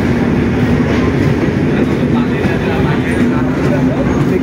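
Down Nilsagar Express rolling into Saidpur station, a loud continuous rumble of wheels and carriages passing close by, steady throughout.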